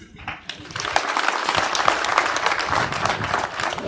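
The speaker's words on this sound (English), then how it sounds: "Another big round of applause, ladies and gentlemen." Dense audience applause at a university freshers orientation event, a sustained burst of clapping from a large crowd, loud and continuous throughout.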